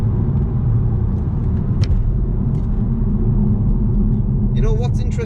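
A 2020 BMW M135i F40 hatchback driven hard through a series of corners, its engine and road noise forming a loud, steady rumble throughout, with tyre and wind sounds rising near the end.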